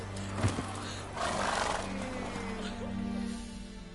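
Roach the horse in The Witcher 3 gives a loud whinny after a brief thump, the call rising then trailing off over a low, steady hum of game ambience.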